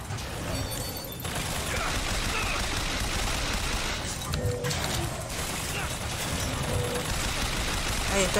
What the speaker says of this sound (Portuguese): atirando.